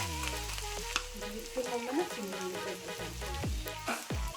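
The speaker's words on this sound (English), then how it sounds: "Add in your spring onions and your onions." Spring onions and onions hit a pan of frying lamb mince, crackling and sizzling close by while a utensil scrapes and stirs with a few sharp knocks throughout.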